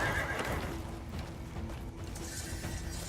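Horse in the Crimson Desert video game neighing and whinnying amid clip-clopping hooves and mechanical clanks, loud and close over a steady game background for about three seconds.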